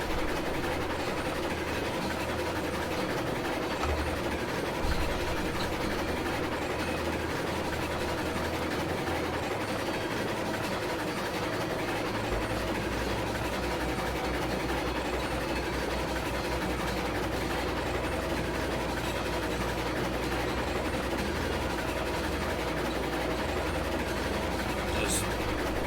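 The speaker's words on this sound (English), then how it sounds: "Just chilling with the train." A train runs steadily in the video game Railroads Online, giving a continuous low engine rumble and rolling rail noise that lasts throughout, with people chatting over it now and then.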